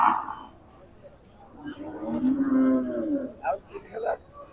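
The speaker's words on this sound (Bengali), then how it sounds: "চমৎকার সুন্দর একটা গাভী গরু" A dairy cow at Benapole Satmile cattle market gives a long, close, drawn-out moo, with short snorts and a brief voice just after.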